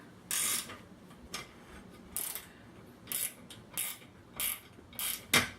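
A 9/16 socket wrench loosening a bolt on a Bowflex pulley, giving a series of short, sharp ratcheting clicks in uneven bursts, close and fairly quiet with no talking.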